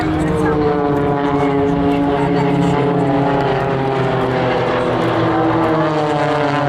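Blades aerobatic team propeller aircraft performing close formation manoeuvres at the Waddington air display, a steady loud droning engine hum with layered harmonics throughout, while a commentator talks over it.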